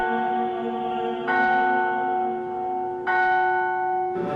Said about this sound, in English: you can hear church bells behind him